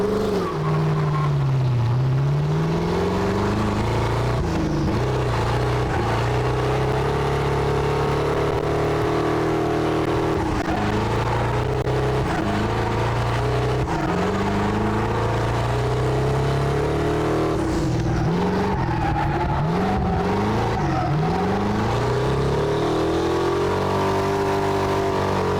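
A race car launches hard and accelerates with a loud, sustained engine roar that climbs and shifts through revs for the whole stretch, no talk over it.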